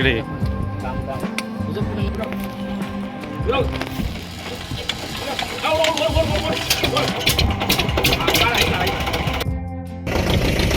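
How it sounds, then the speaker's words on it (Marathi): A boat engine on a sea trip off Guhagar in the Konkan starts up and settles into a steady, rattling idle, heard close with people talking over it. "तर बघा आता बोट चालू होते"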